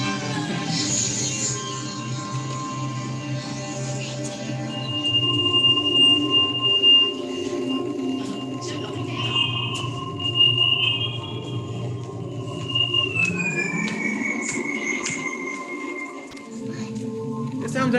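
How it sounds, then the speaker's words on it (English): An interactive art installation in a museum gives off spacey electronic tones. Sustained sine-like pitches and rising and falling chirps and sweeps layer over a low hum, moderately loud and continuous. "The sounds ended up being a little spacey"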